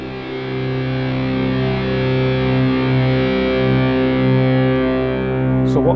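Omnisphere Undercover synth patch holding a steady, distorted electronic tone with echo tails, sounding continuously and evenly loud with no key pressed, then thinning out near the end.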